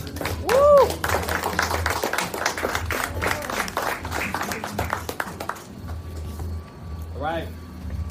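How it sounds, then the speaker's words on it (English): Audience applause at a live podcast recording in New York, sustained clapping with cheers and a whoop, fairly close and loud, fading toward the end as a voice begins speaking. "Round of applause, please."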